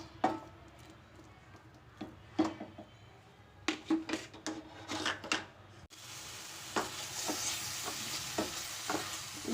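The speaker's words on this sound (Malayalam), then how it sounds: "ആ നെയ്യിലേക്ക് തന്നെ നമ്മൾ അരിഞ്ഞു വെച്ചിരുന്ന പഴം ഇട്ട് കൊടുക്കാം. എന്നിട്ട് നമുക്കിതൊന്ന് ഈ നെയ്ക്കകത്ത് ഒന്ന് വഴറ്റിയെടുക്കാം." Sliced banana stirred in ghee in a pan: scattered sharp scrapes and clinks of a spoon against metal over a quiet sizzle that grows louder and steadier in the second half, without speech.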